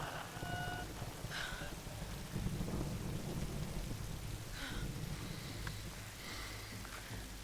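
Steady rain pours through a stormy scene in the video game Tomb Raider, a dense continuous wash with low rumbling underneath and a few faint tonal chirps drifting in and out.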